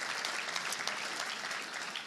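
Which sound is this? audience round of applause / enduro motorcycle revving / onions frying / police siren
audience round of applause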